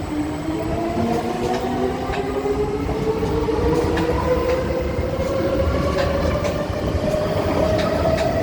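Train set 655 656 rolls past, a steady loud rumble of wheels on rail with rising motor whine and scattered clicks throughout, continuous and close.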